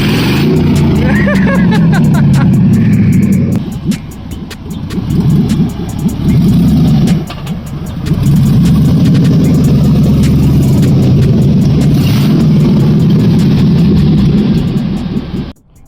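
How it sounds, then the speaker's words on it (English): Car engine revving hard during a burnout in an LS-swapped Blazer, a loud sustained roar that dips briefly between pulls, with tire squeal over it and people talking underneath. "Roast the tires, it's all it does."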